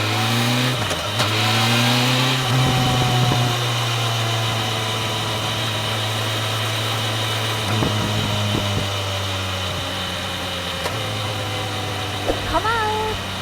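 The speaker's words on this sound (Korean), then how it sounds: "스로틀을 쫙 감았다가 스로틀 엑셀 오프를 했을 때 파바방 빵바방 내가 혼자 듣기 괜찮은 정도의 딱 사운드를 내주더라고요" BMW M1000XR sport-touring motorcycle engine in race mode, revving with rising and falling harmonic tones and throttle-off exhaust pops, loud and close throughout, with a brief blip near the end.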